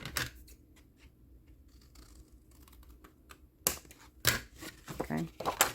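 Scissors cutting paper for a small handmade fall-themed journal, heard as sharp close snips and crisp paper rustles that come in quick bursts toward the end, after a quieter stretch of faint handling.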